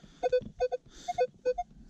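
An X-TERRA metal detector sounds a run of short, clear tonal beeps in an uneven rhythm during a field search, fairly quiet, with soft handling noise between the tones and no talking.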